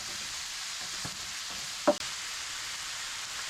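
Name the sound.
ground pork and beef frying and being stirred in a pot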